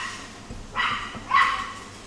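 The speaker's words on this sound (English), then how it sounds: "Man, that dog's going nuts out there." A dog barking outdoors, two sharp barks in quick succession with a low thump between them, heard alone at moderate loudness.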